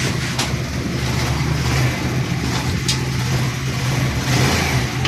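A motorcycle engine, clutch-started and put in gear, runs at a steady, even idle close by, a continuous mid-pitched hum with no pauses and no voices.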